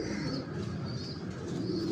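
A pigeon from a breeding pair coos in soft, low, continuous murmurs, close and steady, with no voices.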